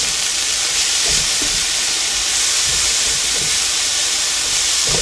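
Vegetables for a chicken and shrimp stir fry get a quick sauté, giving off a loud, even hiss that fills the pan nonstop with only faint clinks and shuffles underneath.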